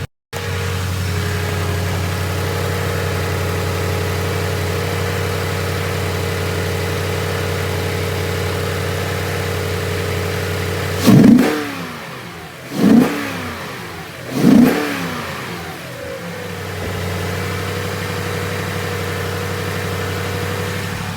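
A 2016 Toyota Tundra Platinum engine with an S&B intake idles steadily, then revs up three times in quick bursts before settling back to a louder idle.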